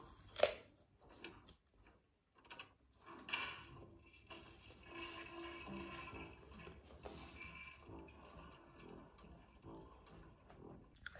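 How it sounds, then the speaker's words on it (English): Knife cutting up apples, giving a run of crisp, close ticking chops and crunches with short pauses between bursts, no talking. "I like to cut up my apples"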